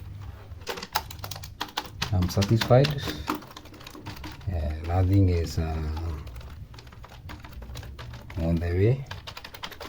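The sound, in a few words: testing key presses on a repaired computer keyboard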